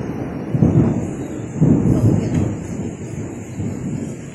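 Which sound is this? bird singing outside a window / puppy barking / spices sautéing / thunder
thunder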